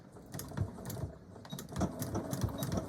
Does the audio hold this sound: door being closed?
no